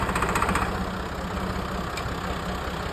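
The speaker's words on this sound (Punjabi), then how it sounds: "ਟਰੈਕਟਰ ਦਾ ਸਾਊਂਡ ਚੈੱਕ ਕਰੋ ਤੇ ਬਾਕੀ ਗੱਲਾਂ ਬਾਅਦ 'ਚ।" A modified Massey Ferguson 350 tractor engine runs close by at a steady, loud, rough idle with a low, knocking throb throughout.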